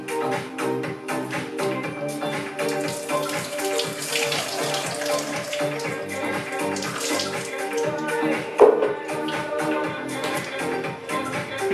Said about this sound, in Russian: Сейчас я с нее сливаю воду и достаю.